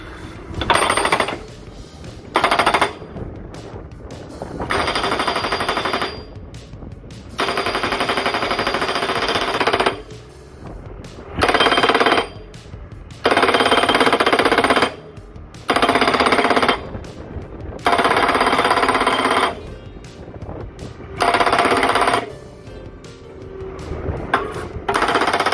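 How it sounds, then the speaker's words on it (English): A Montana 750R post driver hammers a post into the ground, vibrating it down in loud, harsh bursts of a few seconds each, separated by short pauses, with no talking. "the pounder sits on top of the post and vibrates it into the ground."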